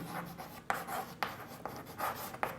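Chalk or marker writing on a classroom board for a physics lesson, quiet scratchy strokes with sharp taps at the start of each stroke, irregular rhythm, no talk.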